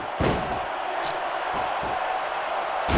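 A crowd roars in WWE SmackDown vs Raw 2006 as a continuous cheering wash under a few heavy slams and thuds, with muffled voices around them.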